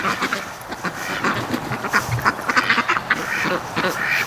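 Pekin ducks quack repeatedly at close range in a busy, overlapping chorus of short nasal calls outdoors by a lake.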